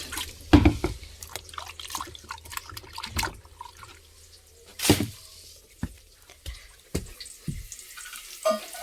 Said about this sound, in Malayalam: ഇനി നമുക്കിത് കഴുകിയെടുക്കാം